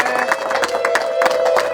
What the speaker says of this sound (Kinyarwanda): Amashyi menshi twongere dushimire umutwe